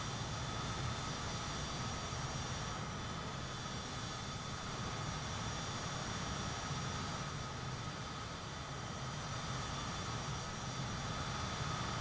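The Milviz PC6 turboprop in Microsoft Flight Simulator hums as a steady, loud engine drone with a constant whine, holding even throughout with no voices.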